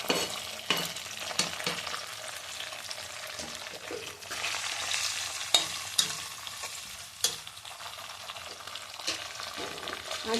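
Green chillies and chopped ginger go into hot oil with cumin for a Tamil Nadu style pongal tempering, giving a steady close sizzle broken by sharp clinks and scrapes of stirring.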